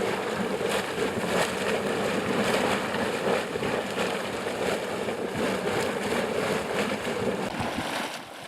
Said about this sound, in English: We see that stuff sloshing around down inside there.